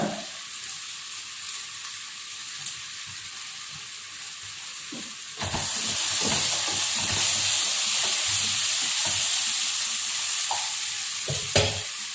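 Raw banana slices and curry leaves stir-frying in oil in a pan: a quieter sizzle at first, then a louder steady crackle after a sudden jump, with intermittent scraping strokes of a spatula and no voices.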